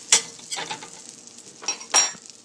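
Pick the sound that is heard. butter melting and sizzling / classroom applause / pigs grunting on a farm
butter melting and sizzling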